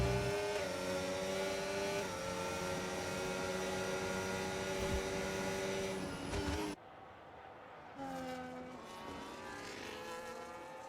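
Race cars roaring through a Grand Prix racing video game, a loud continuous multi-engine whine with shifting pitch that cuts abruptly to a quieter engine drone before rising again.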